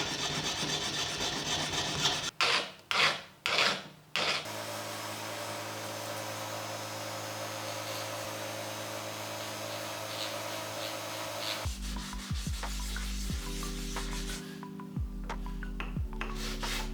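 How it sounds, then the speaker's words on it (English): A small cast ring from lost wax casting is worked after its sprues are cut off: a few short rasping strokes, then a steady sustained grinding or sanding drone, later shifting to a lower motor hum. "now it's time to cut off the sprues and to sand and polish them"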